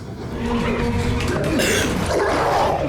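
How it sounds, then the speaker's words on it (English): Puppies in a film yip and bark in short overlapping bursts, fairly close, mixed with people's chatter and laughter. "Ah! The puppies!"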